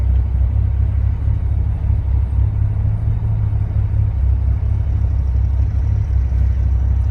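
A Callaway turbocharged VW Rabbit engine idles steadily at about a thousand rpm, a continuous low, close rumble with no other sounds over it.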